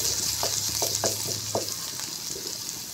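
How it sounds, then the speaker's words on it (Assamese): Garlic frying in hot oil with two dried red chillies, a loud, even, close sizzle with a few light taps of a spoon in the pan and no talk. "নহৰুটো অকণমান ভাজি লওঁ ইয়াত"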